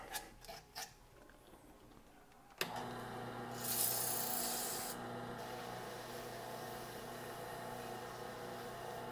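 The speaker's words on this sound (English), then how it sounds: "Run the sandpaper lengthwise a little bit here to get some of the sanding marks" Sandpaper rubbed lengthwise along a turned wooden bottle stopper, a few scratchy strokes at first, then a sharp knock and a sustained raspy rubbing that surges briefly before settling into a steady quiet scrape.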